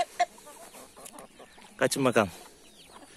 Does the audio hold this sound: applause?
no